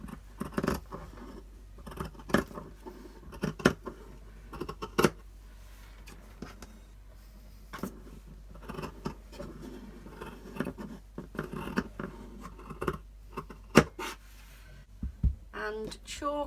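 Scissors snip through an old sweater in a run of sharp, close cuts, some single and some in quick pairs, with quiet pauses between them.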